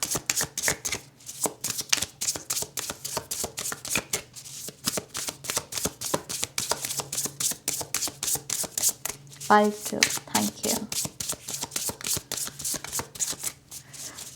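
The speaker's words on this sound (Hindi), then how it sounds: "तो चलिए शफल करते हैं पार्ट 2 के लिए" A deck of tarot cards is shuffled over and over in quick, crisp riffles and taps, close and continuous, while someone speaks briefly over the shuffling.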